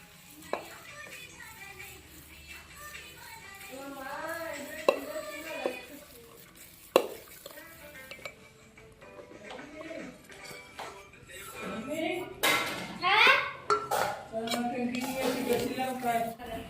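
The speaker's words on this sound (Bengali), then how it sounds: "ময়দা ডালতে ডালতে ওইটা চামচ চালাইতে থাকা লাগে" A spoon stirs malpua batter in a bowl as flour is added, scraping and clinking steadily up close, with a few sharper knocks and talk running over much of it.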